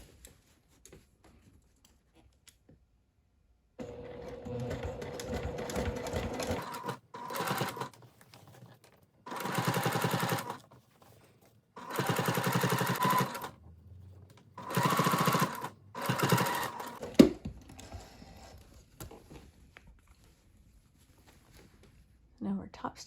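A sewing machine top stitches a shirt placket in several short, rapid bursts separated by pauses, close and fairly loud, with someone talking in the gaps between runs.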